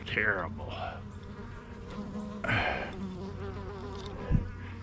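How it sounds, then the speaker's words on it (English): Bees buzzing around a hanging object outdoors in the wilderness, several close passes swelling and fading in loudness with steady droning between, no talk. "we got bees hitting this thing"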